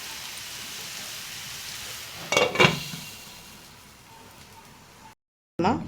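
Clams for chippi thoran sizzle steadily in a covered pan, a constant crackling hiss broken by two sharp clanks of the lid before the sound cuts out briefly and returns.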